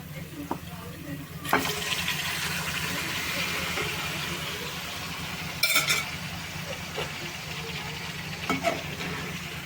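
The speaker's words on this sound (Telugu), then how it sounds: "బోటి తీసుకొచ్చుకుని వేసేద్దాం తాలింపులో" Boiled goat tripe is stirred into sizzling fried onion tempering in a pan, a steady soft hiss under occasional sharp clatters of a spoon scraping the vessel.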